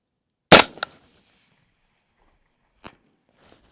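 A single sharp M110 rifle shot cracks out loud and close, followed by a brief echo and a couple of faint mechanical clicks in otherwise quiet surroundings.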